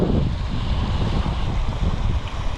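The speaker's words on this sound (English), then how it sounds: "A lot of water moving. It's a lot of snow melt." Rushing snowmelt water flows steadily and loudly close by, a dense continuous wash with broadband noise and some wind buffeting, no voices.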